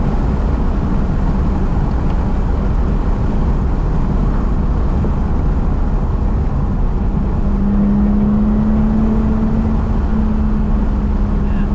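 1979 Jaguar XJ-S pre-HE with a five-speed manual conversion being driven: a steady, loud low engine drone and road rumble fill the cabin throughout, with a faint rising tone late on and wind noise, no clear talk.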